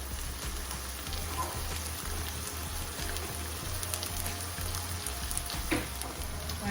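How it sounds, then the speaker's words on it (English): Keema simmering on low heat under a lid, a soft steady sizzle and bubbling crackle with a low hum, continuous and fairly quiet. "we're going to place the lid on here and let that just cook on low heat for another 5 minutes"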